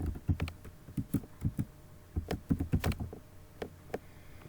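Keys clatter on a computer keyboard as an account number is typed, a close run of quick irregular taps in short bursts with brief pauses between them.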